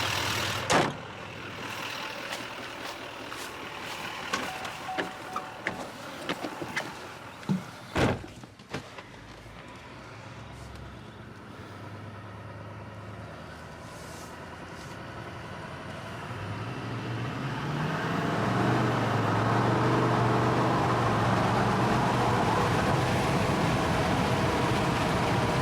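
A 2021 GMC Duramax diesel pickup fitted with a stealth module, heard from inside as a few clicks and knocks give way to a low engine hum that swells into a louder sustained roar as the truck accelerates.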